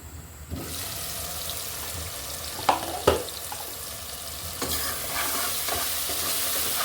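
Bottle gourd curry stir-fried in a pan, a steady broadband sizzle throughout with a few sharp clinks of a spatula against the pan near the middle, alone with no voices.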